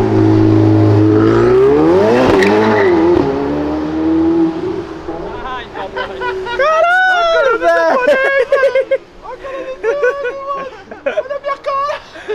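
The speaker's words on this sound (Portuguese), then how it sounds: "quando o cara acelera" A supercar revs hard on a São Paulo street, its engine note climbing in a loud sweeping rise before fading back. Excited voices and crowd chatter then take over and carry on through the rest.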